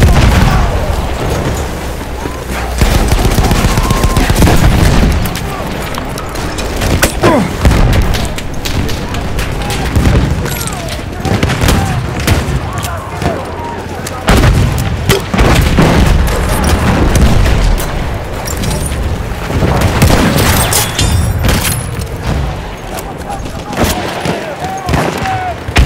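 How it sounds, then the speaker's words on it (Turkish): Explosions and booms amid constant gunfire in the video game Battlefield 1, a dense, loud battle din with repeated blasts, shots and bursts throughout. "Bomba atıyorum."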